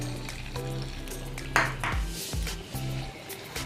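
Spices frying in a pan for chicken wings give a steady low sizzle, with a metallic clink of a utensil against the pan partway through, close and moderately loud.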